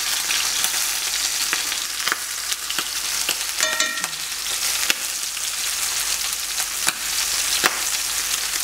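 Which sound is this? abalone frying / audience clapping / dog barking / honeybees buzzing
abalone frying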